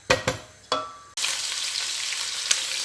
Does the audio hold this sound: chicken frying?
yes